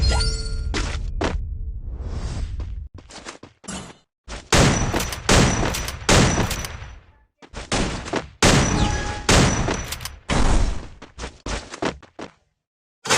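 Rapid bursts of game gunfire, loud and close, firing in repeated volleys separated by brief pauses, with occasional thuds between.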